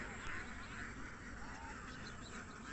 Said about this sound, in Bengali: এত শব্দ হচ্ছে হাঁসের